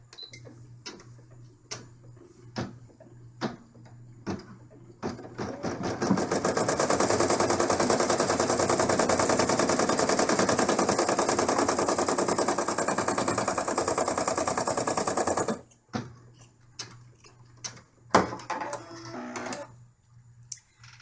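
An embroidery machine sews a placement stitch in blue thread on an in-the-hoop camper bag, a loud steady rapid needle chatter lasting about ten seconds, with softer clicks and motor whirs before and after.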